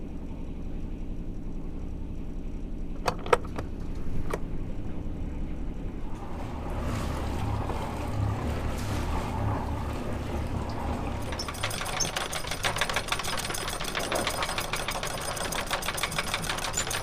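A sailboat's anchor is hauled up from a mucky bottom: a steady mechanical churning and knocking over sloshing water, growing into a busier, rhythmic clatter in the later half, with no talking.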